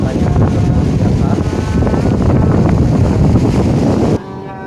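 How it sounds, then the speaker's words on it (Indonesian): Wind and crashing surf at Karang Tawulan beach make a loud, continuous roar with heavy low rumble, cutting off abruptly near the end. "menikmati suara debur ombak dan angin sepoi-sepoi"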